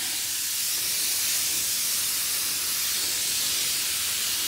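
An insecticide sprayer works in a garden, giving a steady, even hiss of spray that runs unbroken and moderately loud, with no voices.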